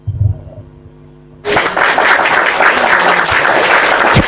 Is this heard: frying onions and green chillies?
no